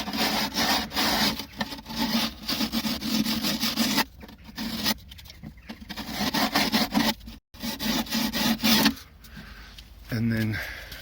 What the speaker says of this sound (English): Next thing is just give it a little light sanding,